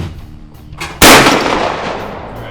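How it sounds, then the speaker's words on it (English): Single rifle shot fired at an outdoor shooting range, one sudden loud crack followed by a decaying echo, heard alone after a quiet moment. "When you're ready, fire shot."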